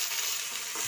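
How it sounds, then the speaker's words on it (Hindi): Chopped onions fry steadily in hot oil in a pan for a desi-style chicken curry, giving off a continuous, close sizzle with no voices. "हम अपने प्याज को हल्का ब्राउन होने तक अच्छे से भून लेंगे।"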